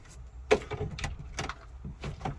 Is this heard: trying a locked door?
yes